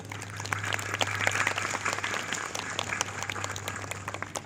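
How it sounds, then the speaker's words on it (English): An audience applauds at a school math relay event, a steady wash of many hands clapping at moderate distance with a low constant hum underneath, no speech over it. "So have a huge round of applause for you all"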